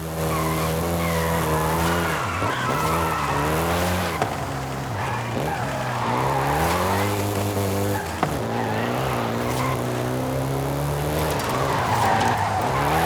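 A Volkswagen Golf GTI in the Forza Horizon 5 racing game revs hard and skids, its engine droning and rising in pitch through gear changes while tires squeal continuously, loud and up front with no talking.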